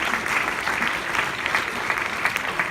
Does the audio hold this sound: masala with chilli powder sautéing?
no